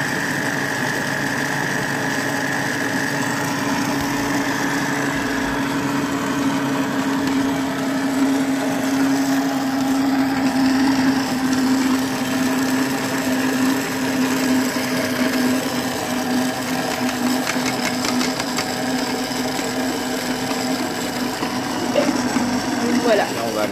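A food processor kneads pizza dough from flour, water and yeast, its motor whirring in a steady hum at a raised speed, close and continuous for the whole stretch, with a voice talking over it.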